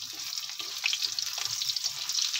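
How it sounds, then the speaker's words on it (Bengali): Cut potatoes frying in oil tempered with black cumin, a close crackling sizzle with bursts of popping and spatter, steady and fairly quiet, with no voices. "কালো জিরাটা ফ্রাই হয়ে এলে এবার আমি কেটে রাখা আলুটা দিয়ে দিচ্ছি।"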